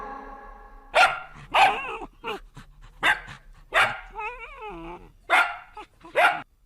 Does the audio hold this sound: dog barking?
yes